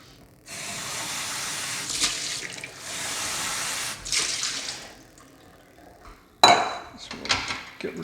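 Running tap water rinsing a milk jug at an espresso setup, in two sustained bursts of hissing flow, followed by a sharp clatter and a few shorter splashes, close and fairly loud.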